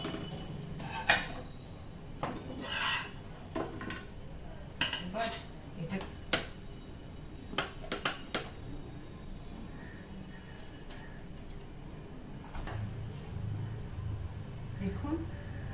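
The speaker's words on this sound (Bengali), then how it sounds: "এটাকে আমি সুন্দর করে পিস পিস করে পিজার মতো কেটে নেব" A knife or spatula cuts an omelette into pizza-like slices on a pan or plate, giving a series of irregular clinks and scrapes of metal against cookware, moderately close, with a voice talking at times.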